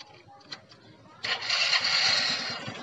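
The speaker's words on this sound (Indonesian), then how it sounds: "Kita nyalakan dulu motornya." Carbureted motorcycle engine starting up: faint clicks and shuffling give way to a sudden catch into a loud, steady idle with a rapid pulsing beat, close by and without talk.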